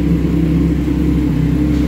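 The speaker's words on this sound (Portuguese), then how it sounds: "Aí, Piteiro, olha a sua moto aí, ó. No funcionamento." A Kawasaki ZX6R 636 motorcycle engine runs close and loud, a steady low idle rumble with even pulsing and no speech.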